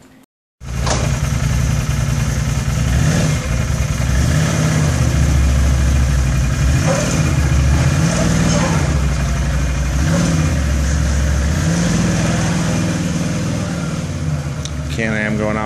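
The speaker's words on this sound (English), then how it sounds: "Can-Am going out for a little photo shoot." A Can-Am vehicle's engine idles steadily and then revs as it drives off, loud and close, its low rumble rising and falling for most of the clip.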